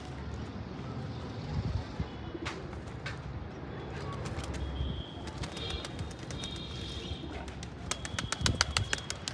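A crowd of pigeons packed into a small bathing tub coo softly, with sharp bursts of flapping and splashing that grow busier toward the end, while a person talks nearby.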